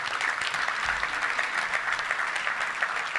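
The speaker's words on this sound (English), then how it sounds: "So round of applause for a state record." Luncheon audience at the Little Rock Touchdown Club clapping for a state football record, a steady, even patter of many hands at moderate volume, unbroken and free of talk.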